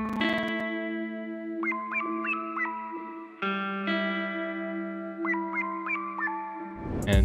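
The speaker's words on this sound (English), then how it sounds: "So after a little bit of chopping, I layered them like this." Chopped Splice guitar and synth lead samples layered into a dark ambient melody: steady sustained tones with echoing, effected plucked notes that rise in short repeated phrases, pausing and returning, with no voices.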